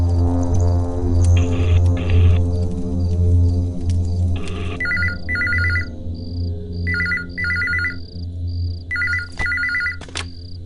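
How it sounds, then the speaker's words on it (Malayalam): A telephone rings unanswered, the tone repeating in short paired bursts over a low hum and faint background music. "ഫോൺ എടുക്കുന്നില്ല."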